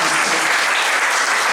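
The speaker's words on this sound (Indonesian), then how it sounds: "Berikan tepuk tangan yang meriah." A church congregation at a worship service breaks into loud, sustained applause, a thick steady roar of clapping with no talk.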